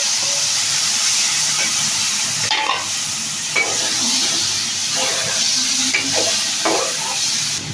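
Green beans tipped into a pan of browned onion and garlic and frying hard for fish-with-gourd-and-bean curry, giving a steady close sizzle and hiss with occasional stirring scrapes and clinks, no talk.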